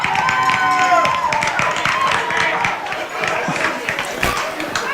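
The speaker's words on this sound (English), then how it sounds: "you can hear the Buff fans in front of me" At a Sacred Heart high school football game, home Buff fans keep cheering after a touchdown, a continuous crowd roar with claps and shouts that fades slightly, with a commentator talking over it.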